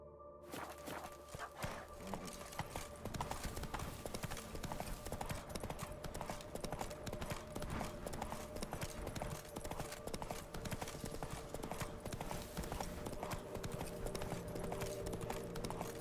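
Steady rhythmic hoofbeats of a horse ridden in The Witcher 3, clip-clopping continuously at a brisk pace under a bed of game ambience and music.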